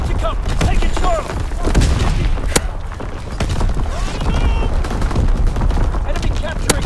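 Artillery and gunfire in Call of Duty WWII domination on the Shipment 1944 map: a relentless mix of rapid rifle and machine-gun fire and sharp cracks, with heavy thumps landing nearby throughout.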